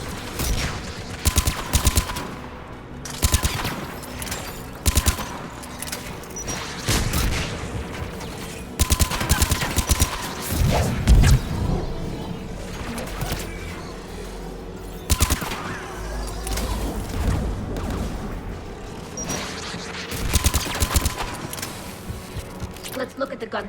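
Anti-aircraft guns pound away in Mass Effect, a steady run of sharp shots and bursts repeating throughout, with a voice speaking intermittently over the gunfire.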